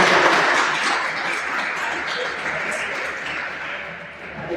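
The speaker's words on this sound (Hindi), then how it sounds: "आपने भी ताली बजाएं" A yoga and meditation class audience claps together in a dense, steady burst of applause that fades slightly toward the end, with some voices mixed in.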